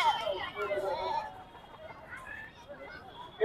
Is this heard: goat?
yes